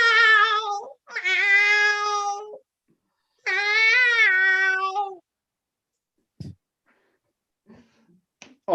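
Cat meows loudly up close, three long drawn-out calls in quick succession, followed by a few faint clicks and small noises in near silence.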